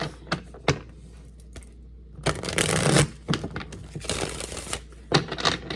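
A Golden Tarot deck with Renaissance artwork is shuffled by hand in crisp bursts of riffling and card slaps, close and fairly loud, with short pauses between them.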